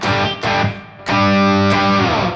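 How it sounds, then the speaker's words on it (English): Overdriven electric guitar on the bridge pickup plays loud, sustained distorted chords, struck in a few separate hits with ringing tails between them. "get it on that bridge pickup, and get your overdrive sound"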